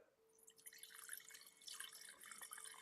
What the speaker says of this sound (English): Can you hear me pouring it?